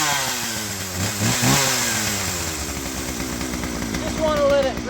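A Husqvarna 41 two-stroke chainsaw revs loudly close by while warming up, its buzzing engine rising and falling in pitch through repeated throttle blips, with a voice talking over it at times.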